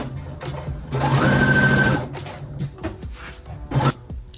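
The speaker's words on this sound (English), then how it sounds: "I'm now going to place front and back on top of each other and sew the side seams." A domestic sewing machine stitching the side seams of a summer dress, front and back pieces layered together; a steady close whirring run of about a second, with softer handling clicks and fabric rustle before and after.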